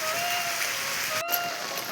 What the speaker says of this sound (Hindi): तो बहुत तेज बारिश हो रही देखिए